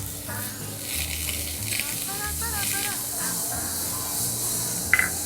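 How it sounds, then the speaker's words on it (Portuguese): Butter melting in a pan for a pasta sauce, a soft steady sizzle and hiss with faint stirring scrapes and a small clink near the end. "Primeira coisa que a gente vai fazer na panela é colocar a manteiga para derreter."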